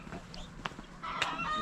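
Farmyard fowl, geese among them, give a few scattered honks and squawks near a rural Asturian path, short bursts with quiet gaps between, no talking.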